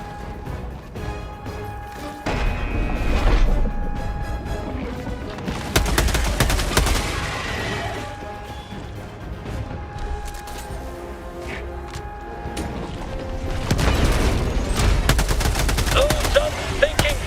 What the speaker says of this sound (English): For A-list accuracy, stay still while you shoot.